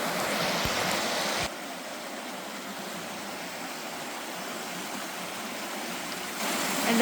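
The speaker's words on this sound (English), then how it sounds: "Would that be considered a babbling brook?" A babbling brook along the Foster Falls trail rushes in a steady, broadband wash of flowing water, fairly close and constant, with no voices over it.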